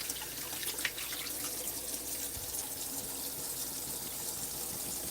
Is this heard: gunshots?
no